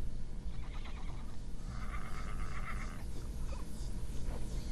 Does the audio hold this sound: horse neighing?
yes